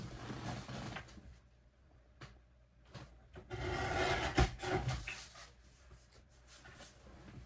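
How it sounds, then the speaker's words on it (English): Paper card stock edge being trimmed at close range: soft rasping, scraping strokes come in short bursts, with a louder stretch of cutting near the middle, quiet and without talk. "Now I've got a little white showing through right there, so I'm going to trim that up."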